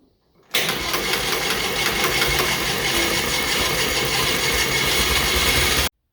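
A John Deere Model R tractor's pony motor catches and runs, a loud close rough idle with irregular popping and knocking that holds steady for several seconds, then cuts off abruptly.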